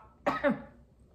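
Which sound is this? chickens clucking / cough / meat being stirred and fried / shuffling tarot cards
cough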